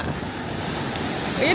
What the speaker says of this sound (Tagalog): Ayun, lakas ng alon.